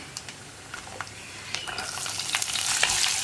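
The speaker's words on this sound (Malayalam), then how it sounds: "നമുക്കിനി ഇതിലേക്ക് ഇഞ്ചിയും പച്ചമുളകും ചേർക്കാം." Ginger and green chillies frying with coconut pieces in hot coconut oil, a close, bright sizzle that swells louder toward the end, with light stirring clicks and no talk.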